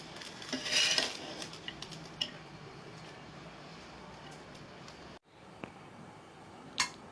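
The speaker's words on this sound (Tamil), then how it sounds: "இப்போ இதை நல்லா நம்ம மிக்ஸ் பண்ணிக்கலாம் இது மாதிரி சைட்லேருந்து நம்ம மிக்ஸ் பண்ணலாம்" Bread and vegetable rice being stirred in a pan, with soft scraping and a few clinks of a spoon against metal, fairly quiet and close, with a brief bright clatter near the start and another near the end.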